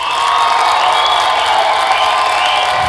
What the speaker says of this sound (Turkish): Alkışlarınızla son oylama için şimdilik şövalyeyi uğurluyoruz